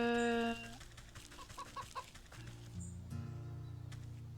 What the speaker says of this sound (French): Les poules... Ok,